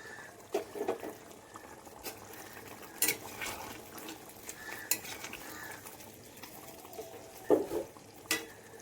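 Chicken simmering in a pan with a little water for Kolkata-style dum biryani, soft steady sizzle and bubbling with occasional sharp scrapes and clinks of a utensil against the pan, close and fairly quiet.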